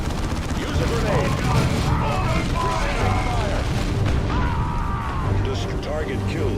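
Gunfire and explosions rumble continuously in a Dawn of War II battle against orcs, loud and dense, with game voices calling out over the din.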